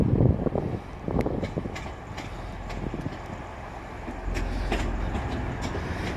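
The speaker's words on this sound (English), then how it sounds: "But there it goes, 185101. Transpennine Express leaving Hull Station" Transpennine Express unit 185101 departing Hull Station on a service to Leeds, a low rumbling train sound with gusty wind noise across the microphone, growing slightly louder towards the end.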